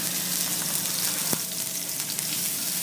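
Beef sears in a hot pan for a Pottsville pot roast, giving a steady, loud, close sizzle and crackle with one sharp tap partway through and no talking.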